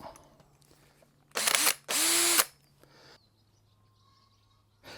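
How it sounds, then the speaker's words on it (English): A power drill with a hole cutter bores a 25mm hole in the roof of a new VW Crafter van, giving two loud, close bursts of high whining grinding, separated by a brief pause. "I'll cut a 25mm hole with these."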